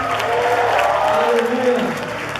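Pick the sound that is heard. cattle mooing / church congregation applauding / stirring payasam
church congregation applauding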